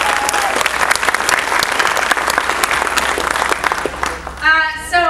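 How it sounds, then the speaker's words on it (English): An audience at a nonprofit conference in Delaware applauds, a dense, loud, sustained wash of clapping that carries on throughout before a voice begins speaking over it at the very end. "So let's give ourselves a round of applause for the great work that we do."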